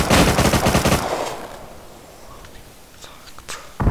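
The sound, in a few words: AK rifle gunfire in a video game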